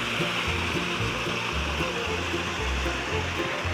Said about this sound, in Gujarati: મસ્ત એવું ઝરણું ચાલી રહ્યું છે, ઠેઠ નીચે જાય છે આ પાણી।